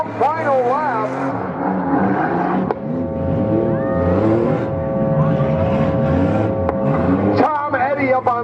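Demolition derby cars race through a final lap, engines revving and droning with rising and falling pitch, while an announcer talks over the motor noise.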